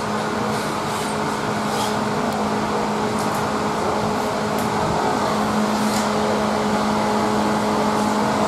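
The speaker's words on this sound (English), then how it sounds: "Sorry for the background noise, it's the fan." A steady, droning garage fan hum fills the space continuously, with a low mechanical whir and faint tonal buzz holding level throughout, no voices.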